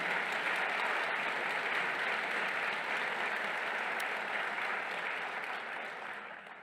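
Audience at a university event welcoming a new president with steady, sustained applause from a full room, even in density and easing slightly toward the end.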